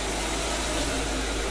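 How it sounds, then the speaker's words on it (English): A 1956 Cadillac Sedan DeVille V8 idles with an exhaust manifold leak, giving a steady low rumble with a faint ticking puff running through it, close up and continuous with no talking. "My exhaust leak came back. You can hear it."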